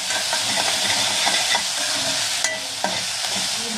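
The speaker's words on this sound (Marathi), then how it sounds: "आता आपण मिरची टाकून घेऊया. ते आपण छान असं परतून घेऊया." Green chillies sauté with browned onion in a hot pan, a steady close sizzle with scattered stirring scrapes and a couple of sharper knocks near the end.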